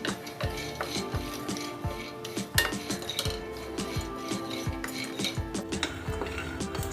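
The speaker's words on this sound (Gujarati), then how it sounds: "એક કઢાઈમાં સિંગદાણા એડ કરી દેશું, હલકા એવા શેકી લેશું" Peanuts roasting in a metal kadhai are stirred with a utensil, giving repeated close scraping and clinking strokes against the pan in an irregular rhythm, with no voices.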